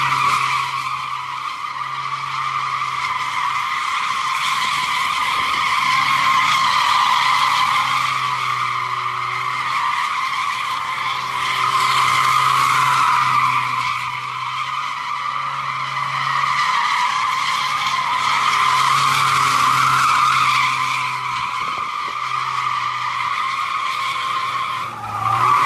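A Toyota van drifts with long, sustained tire squeals that swell and fade in waves over an engine drone, loud and continuous throughout.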